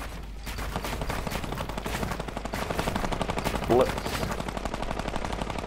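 Continuous rapid gunfire in the video game Fortnite, a steady machine-gun-like rattle running throughout under a background game mix, with a short spoken word partway through.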